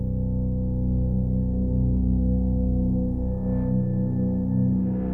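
Sustained cinematic drone from a modular synth, low-pass filtered and washed in reverb, a dense steady hum of stacked low harmonics holding at even loudness throughout, with no voices.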